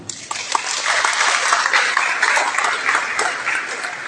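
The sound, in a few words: audience applause at seminar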